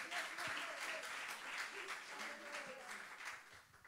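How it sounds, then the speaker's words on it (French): A church congregation applauds together, a steady, dense clatter of many hands lasting a few seconds, with a voice faintly heard underneath. "Est-ce qu'on peut applaudir Jésus ce matin?"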